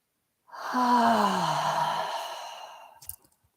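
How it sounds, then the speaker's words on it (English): A single deep breath during a chanting breathing exercise: a brief intake, then a long, audible, sighing exhale through the mouth that fades out, close and clear. "We'll take a deep breath in."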